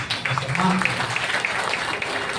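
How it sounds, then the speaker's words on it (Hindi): An audience at a spiritual satsang gathering in Kashi claps, a broad crackling wash of many hands with voices mixed in and some louder speech at the start. "आप लोग ताली लगाओ इनके लिए"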